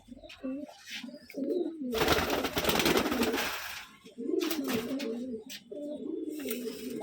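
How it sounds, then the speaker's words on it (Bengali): Rajshahi Giribaz pigeons kept in an enclosed room coo in repeated low, rolling phrases close by, broken midway by a couple of seconds of rustling, flapping noise before the cooing resumes. "এগুলো তো অরিজিনাল রাজশাহী গিরিবাজ।"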